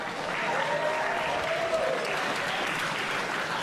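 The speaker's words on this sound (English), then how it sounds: "Give a round of applause for them." Steady applause from an event audience for the night's sponsors at an AXW wrestling show, a dense, even wash of clapping that holds at a constant level throughout.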